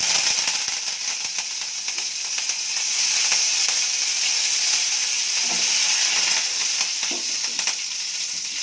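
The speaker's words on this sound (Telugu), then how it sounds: "ఇప్పుడు ఆవాలు కొంచెము, ఆవాలు చిట్పట్లాడాలి." Mustard seeds spluttering in hot oil in a pan, a loud continuous close sizzle with irregular crackling pops throughout, no talking.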